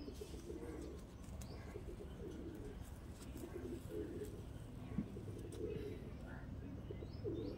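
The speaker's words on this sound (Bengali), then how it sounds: "নর পায়রা" A male Madrasi pigeon coos repeatedly in soft, low bursts spread over several seconds, faint and close, with a person talking quietly in the background.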